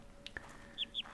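Bird call in a puzzle video game: a few short bright chirps, spaced unevenly over about a second and fairly quiet against a soft background hum.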